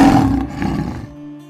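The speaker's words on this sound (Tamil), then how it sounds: "மற்ற மிருகங்களை பார்த்து பயங்கரமா ஒரு கர்ஜனை செய்து" In a Tamil cartoon story, a lion lets out a single loud, rough roar that swells and then fades over about a second, leaving a faint sustained tone.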